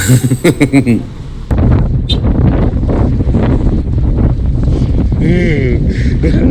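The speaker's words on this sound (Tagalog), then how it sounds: "Saka sobrang lakas ng hangin, lilipa rin ka talaga." Strong wind in a very cold outdoor spot, heard as heavy microphone-buffeting rumble that roars loudly throughout, with people talking and laughing under it.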